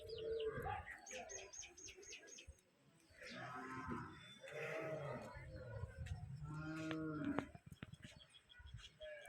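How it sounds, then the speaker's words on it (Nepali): Cows at a cowshed, just back from grazing, moo now and then at a fair distance, with birds chirping and pigeons around them, while people talk quietly nearby. "यी गाईहरू माथिबाट चरेर आएको अवस्था।"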